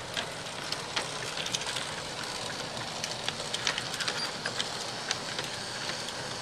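A USA Trains GP38 large-scale model locomotive rolls through a 10-foot reverse loop on a layout, giving a steady faint rolling rumble with scattered clicks and squeals from wheels on the curved track.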